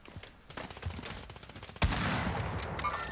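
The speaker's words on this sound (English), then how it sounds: "Bro, he's just shooting." Video game gunfire in a battle-royale match: rapid bursts of shots, moderately loud, with a sharp louder blast midway followed by sustained dense firing.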